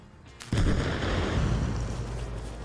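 Landmine explosion in the video game Arma Reforger: a sudden heavy boom bursts in after a brief quiet moment, then a broad rumbling roar lingers and slowly fades.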